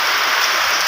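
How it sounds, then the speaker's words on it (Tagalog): Heavy rain pouring steadily, a loud, dense, unbroken hiss of drops close by with no other sounds. "Lakas ng ulan mga muwal,"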